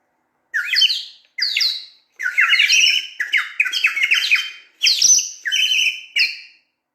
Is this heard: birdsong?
yes